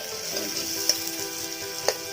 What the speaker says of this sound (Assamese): সুন্দৰকৈ আমি তেলত পিঁয়াজটো ভাজি লৈছোঁ